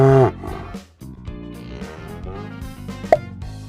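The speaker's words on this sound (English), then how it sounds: "You got it. That is cow." A cow moos loudly and close up, one drawn-out call followed by a lower rumbling tail, alone with no talking.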